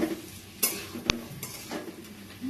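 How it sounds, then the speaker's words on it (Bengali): Potatoes with grated ginger being stirred in a hot pan, a soft sizzle under a few scraping strokes and one sharp clink of utensil on metal, close and quiet, no talk. "আদা দিয়েই এবার আমরা ভালো করে নাড়িয়ে চাড়িয়ে নেব"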